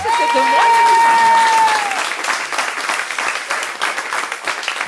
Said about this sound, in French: je vous demande d'applaudir en criant très fort pour qu'elle puisse comprendre que c'est pour elle